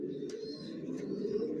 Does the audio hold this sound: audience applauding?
no